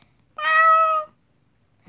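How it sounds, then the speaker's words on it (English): A single clear domestic cat meow, close and loud, lasting under a second in an otherwise quiet indoor space, followed by a faint tap. "Now, meow twice if you know what I'm saying."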